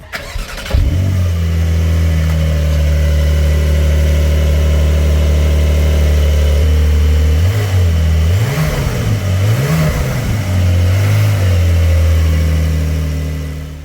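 A 2025 Porsche 911 Carrera on its stock exhaust fires up, settles into a deep steady idle, then gives several quick throttle blips that rise and fall before returning to idle, loud and close.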